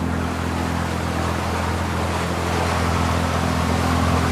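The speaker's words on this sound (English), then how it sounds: "the waves are hitting us from this side." Waves slapping the hull of a sailboat crossing the Strait of Georgia, a steady loud wash of water with an engine-like low hum underneath and no talking.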